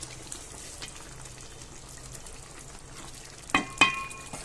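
Tamil kara kuzhambu, a tamarind curry with brinjal, bubbles and sizzles faintly in a pot, with soft scattered pops, then a couple of sharp metallic clinks near the end.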